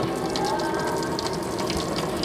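Drainage water from dishwashing runs steadily into an azolla pond, a close, continuous gushing splash with no voices.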